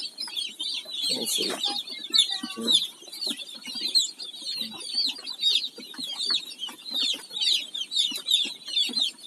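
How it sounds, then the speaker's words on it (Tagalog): Newly acquired chicks peep in a dense, continuous chorus of high chirps close by on a rural farm, with someone speaking briefly over them. "Kakuha ko lang ngayon itong sisiw na ito."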